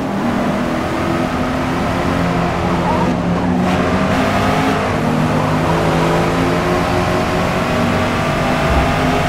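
Racing-game car engine in Forza Motorsport accelerating out of a corner, a loud, steady engine drone with rising harmonic tones running throughout, close and continuous with no talking.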